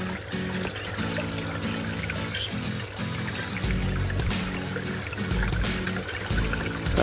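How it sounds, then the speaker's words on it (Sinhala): A hang-on-back aquarium filter sends a steady stream of water spilling back into the tank, a continuous splashing trickle with a low pump hum running under it throughout. "දැන් ටික ටික මෙහෙට එනවා වතුර."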